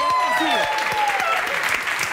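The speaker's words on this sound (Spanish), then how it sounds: "Un aplauso." A studio audience bursts into brisk, dense clapping during a talk show, loud and close, with voices and laughter mixed in over the applause.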